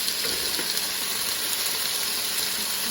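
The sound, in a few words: chorizo and potatoes sizzling in a hot pan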